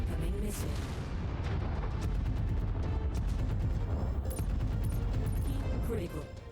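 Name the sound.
incoming missile explosions in MechWarrior 5: Mercenaries video game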